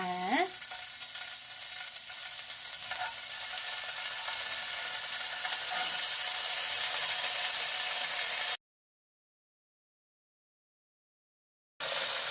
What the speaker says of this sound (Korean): 예열해 놓은 후라이팬 위에 치즈 베이컨 마리를 한번 구워 보도록 하겠습니다.